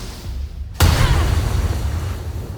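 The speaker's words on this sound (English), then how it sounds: "Alright, let's try Booming Blade." A Booming Blade spell strike in Baldur's Gate 3, with a sharp sudden crack followed by a deep booming rumble that rolls on and slowly fades. It sounds close and heavy and stands alone.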